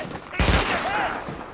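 Gunfire bursts in the video game The Division, a loud broadband blast from mid-clip that carries into sustained shooting, with faint radio-style voice chatter in the mix.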